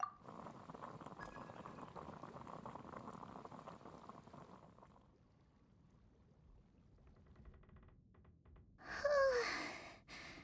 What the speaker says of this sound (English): I'll boil some water.